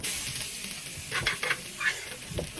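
Ingredients for braised pork leg are stir-fried in a little vegetable oil with salt, giving a close, steady sizzle with a few louder scraping stirs of the spatula.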